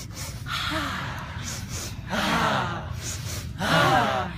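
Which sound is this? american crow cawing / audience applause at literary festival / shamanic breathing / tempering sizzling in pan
shamanic breathing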